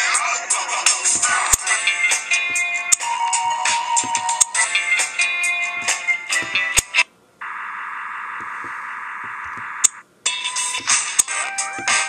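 A phone's default ringtone plays as a bright electronic melody of quick repeating tones, broken by a short pause and a steady sustained buzzing tone before the tune resumes, heard alone and fairly loud.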